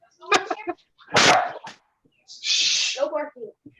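A Jack Russell terrier indoors by a window lets out several sharp, close barks and yips in separate bursts, with people talking around it.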